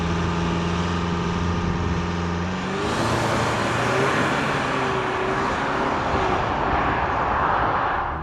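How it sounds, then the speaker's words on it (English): Volkswagen Tayron 2.0 TDI diesel SUV accelerating from 0 to 100 km/h on a country road, engine note droning steadily and then rising into a louder, rougher rush of road and wind noise as speed builds, heard from inside the cabin. "So I will jump now in a purple TDI, show you the acceleration 0 to 100"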